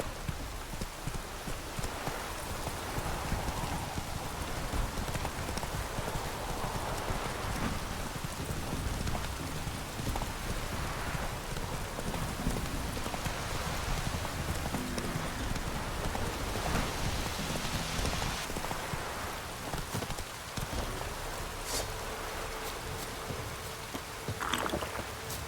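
Roach, a horse in The Witcher 3, clip-clops steadily through rain, hoofbeats running continuously under a dense hiss of falling rain for the whole stretch, with no talk.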